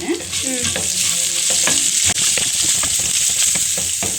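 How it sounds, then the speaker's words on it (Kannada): Coriander, garlic and onion frying in a hot pan, giving a loud, dense, steady sizzle with quick stirring scrapes throughout. "ಅದನ್ನು ಚೆನ್ನಾಗಿ ಫ್ರೈ ಮಾಡ್ಕೊಳ್ಳೋದು"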